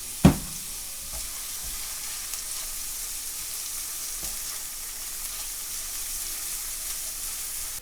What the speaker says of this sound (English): add the oil, green cardamom pods and onions. Fry it until soft and beginning to brown.